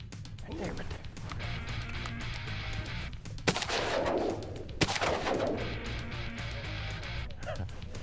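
Shotgun blasts while hunting teal ducks in Louisiana, with two sharp reports standing out over steady outdoor background noise and people talking throughout.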